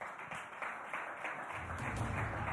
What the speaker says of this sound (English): Big round of applause, ladies and gentlemen, for Virat Kohli and Jasprit Bumrah.